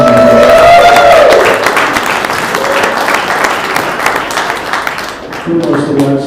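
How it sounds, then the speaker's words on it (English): A crowd at a music venue breaks into loud, sustained applause with cheering, over a fading held tone at the start, and voices briefly return near the end as the clapping thins. "let's give a round of applause to anybody's here"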